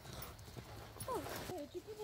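Hooves clip-clop rhythmically as a horse moves at a canter during flatwork riding practice in an arena, under a person's talking, with a brief horse whinny-like call and a dog sound nearby.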